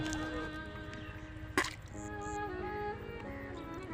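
Water trickles through a small hole in the ground to the roots of a tree, making soft dripping and gurgling sounds over a quiet background with one sharp splash partway through.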